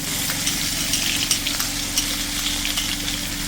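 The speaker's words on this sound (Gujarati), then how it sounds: "તો આદુ મરચાંની પેસ્ટ બનાવી છે એ પેસ્ટ નાખીશું." Ginger-chilli paste with fenugreek seeds, mustard seeds and cumin sizzling in hot oil for Gujarati green cowpea curry, a dense steady crackle with small pops, close and loud, no voices.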